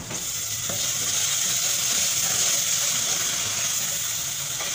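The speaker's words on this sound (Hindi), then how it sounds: "अब इसमें डालेंगे तमाम मसाले, फ्राई करेंगे" Spices and tomato frying in a pan for a spinach and ridge gourd curry, giving a steady, loud, continuous sizzle with no speech.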